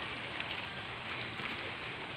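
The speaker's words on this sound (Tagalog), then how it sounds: "Umaambon ngayon." Light drizzle falls by a river, a soft, steady hiss of fine rain with no voices.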